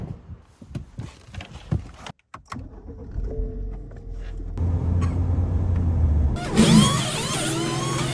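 A car driving toward a tire repair shop, engine hum and road noise building steadily, with clicks and a brief power-window whir early on, then louder broadband rushing near the end.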